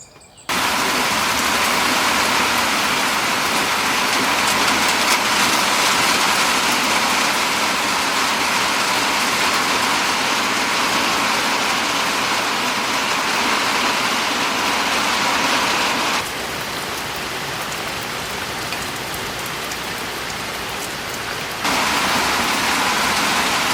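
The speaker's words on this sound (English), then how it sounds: "not enough rain to make any puddles yet." Steady rain falls on a farmhouse during a cold July spell, a dense continuous hiss that dips briefly quieter partway through before returning to full strength.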